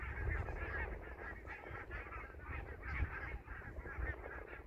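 A flock of geese lifting off outdoors in Malmö, Sweden, honking continuously in overlapping calls at moderate distance, with no talking.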